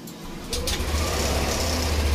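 A car engine with a stored fault code, running through an idle relearn, cranks and catches about half a second in, then settles into a steady, low, rumbling idle that stays loud and close.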